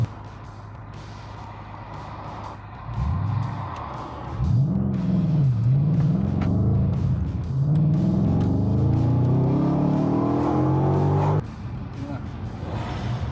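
A car engine in New Zealand traffic, driven through a dodgy intersection, revs up loudly and close through several gear changes, with rising pitch between shifts and brief drops as each gear engages.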